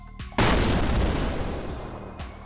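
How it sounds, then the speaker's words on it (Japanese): A large explosion at a chemical factory during an experiment: one sudden loud blast that rolls on in a long, gradually fading roar. "生活必需品化学工場での実験中に大規模爆発が発生"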